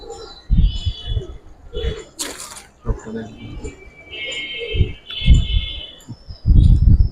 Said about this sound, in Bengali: সম্পূর্ণ কালো দুইটা কবুতরকে